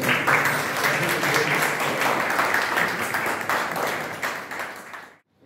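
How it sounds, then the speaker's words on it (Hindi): Audience applause after a Leo Tolstoy story performance at a theater club in a Russian cultural house, a full burst of close clapping that stays strong, gradually thins and cuts off near the end. "तो आपकी तालियां हो जाएंगी कि कैसे किया है।"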